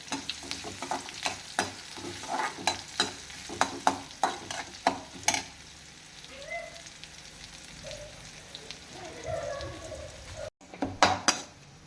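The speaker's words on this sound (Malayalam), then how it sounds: "കടുവെല്ലാം പൊട്ടിക്കഴിഞ്ഞു നമുക്ക് ഉള്ളി മുളക് എല്ലാം കൂടി ഇട്ട്" Onions and chillies fry in a pan after mustard seeds have popped, amid busy metallic scraping and tapping of a spoon, then a softer stretch of sizzling before more clattering.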